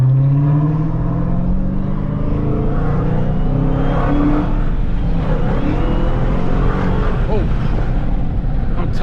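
A Dodge Hellcat muscle car cruises on city streets at night in Philadelphia, its deep engine rumble steady and close throughout, with rising revs midway and people talking over it.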